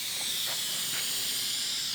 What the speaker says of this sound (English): then spray on another coat